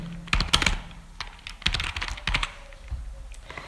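Keys clatter on a computer keyboard as an address is typed into an online application form, in quick irregular bursts of close clicks with short pauses, no voices.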